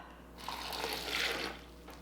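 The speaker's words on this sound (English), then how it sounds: "Then we're gonna add some water, 3/4 cup to a cup, just depending on how thick or thin you'd like it." Water poured from a cup into pancake batter gives a soft, brief liquid fill and splash, close and quiet, with no talking.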